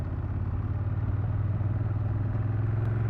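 A motorcycle engine rumbles close by with a steady low throb, pulsing evenly throughout, with no talk over it.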